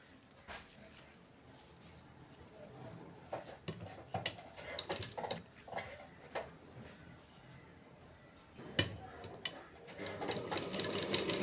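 A sewing machine stitches a doubled saree border, running in short uneven bursts of whirring and ticking at moderate distance, with quiet handling noises between runs and a longer steady run near the end.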